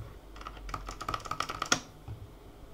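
Apple Extended Keyboard II with undampened cream Alps switches typed on up close: a quick flurry of crisp, clacky keystrokes building to a loud peak, then trailing off.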